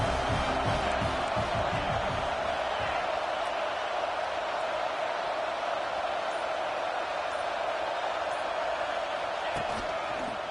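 A stadium crowd at a Purdue football game roars steadily as a broad continuous wash of cheering, loud and sustained, while a commentator talks over it.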